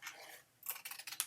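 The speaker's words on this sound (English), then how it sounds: "I like to cut that on an angle, and then I just kind of pivot my scissor and angle it that way." Scissors make several quick, crisp snips as they cut an angled mitered edge in paper for a mini album pocket. A brief quiet stretch comes before the rapid run of faint, close cuts.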